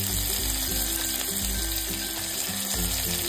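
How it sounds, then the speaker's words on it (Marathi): Onion, tomato, curry leaves, coriander and a pinch of asafoetida fry in hot oil with a constant, loud sizzle, while repeated low scraping strokes of stirring in the pan come through. "साधारणतः अर्ध्या मिनिटासाठी हे सगळं तेलावरती आपण छान असं परतून घेतलंय"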